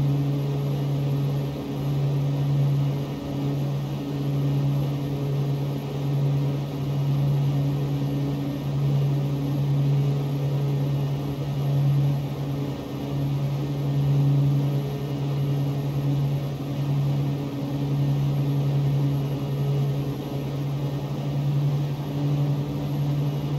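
Twin turboprop engines of a Piper Cheyenne II in X-Plane 11 drone with an even, steady tonal hum that holds unchanged throughout with no voices.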